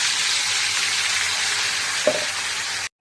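Masala and bay leaf sizzle loudly in a hot kadhai for chicken curry, a dense continuous hiss close to the microphone with one brief clunk near the end before it cuts to silence.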